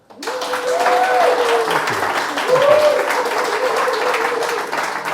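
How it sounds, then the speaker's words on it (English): Audience applause fills a room upstairs at the White Horse as a speaker is welcomed after an interval, steady clapping running throughout with voices rising over it. "That is the one and only applause I've ever had in my life"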